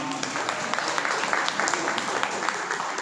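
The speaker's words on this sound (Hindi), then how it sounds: "एक बार जोरदार तालियों से कीजिए मैडम का सम्मान" Dense, continuous audience applause fills a hall at a medical college teachers' felicitation ceremony in Maharashtra, steady and fairly loud with crowd murmur mixed in.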